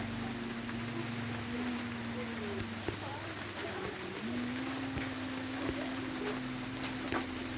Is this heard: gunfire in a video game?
no